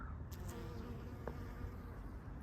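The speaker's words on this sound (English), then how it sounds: "Bees are having a field day" Steady insect buzzing fills the air, a continuous hum of bees close by around a peach tree in blossom in a garden, with a faint outdoor background.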